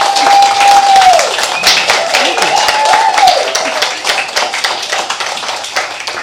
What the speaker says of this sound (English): give another round of applause for Kathleen Elle